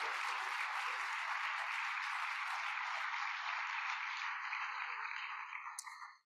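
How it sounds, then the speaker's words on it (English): Congregation at a community worship service claps hands in praise, a continuous, full burst of applause that fades out quickly near the end. "Come on and give God another hand clap of praise."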